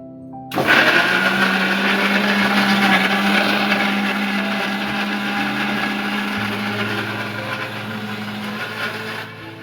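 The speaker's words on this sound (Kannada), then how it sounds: "ಈಗ ಇದನ್ನ ರುಬ್ಬಣ ಬನ್ನಿ, ಓಕೆ ಗೈಸ್? ಈಗ ರುಬ್ಬಣ ಬನ್ನಿ" A mixer grinder grinds ingredients for a foreign recipe, starting abruptly with a loud, steady whirring roar that holds for about nine seconds, its pitch dropping slightly partway through, then cuts off.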